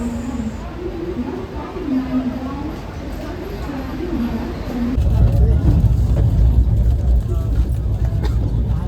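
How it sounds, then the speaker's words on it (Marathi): A low, heavy rumble of an express train arriving at a station swells louder partway through, following a stretch of people talking over a busy background hum. "फायनली ट्रेन आलेली आहे आपली"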